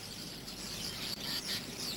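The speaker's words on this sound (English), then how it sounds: "And starlings, profiteers in the fields." Starlings in farmland fields give faint, distant chirps and warbling chatter over a steady wash of outdoor background noise, with no talking.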